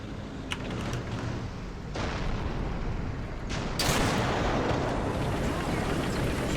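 Tank cannon fire in War Thunder, from a T34-85 battle: heavy booming blasts land over a constant loud rumble of engine and battlefield noise, with the last and biggest shot ringing out close.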